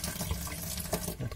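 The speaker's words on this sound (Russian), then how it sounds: "Мы, значит, открываем воду. Набираем некоторое количество." Water running from a tap through a household water meter, a steady rushing splash heard close and alone for the whole moment.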